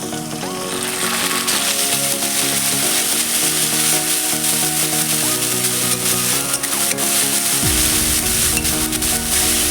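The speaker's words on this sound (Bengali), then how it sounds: "5-6টা রসুন আর 1/2 ইঞ্চি আদা পেস্ট করে রেখেছি। এটা আমি দিয়ে দেবো।" Onion, garlic and ginger paste frying in a pan of oil for rohu fish kalia, a steady close sizzle with stirring running throughout, alone without talk.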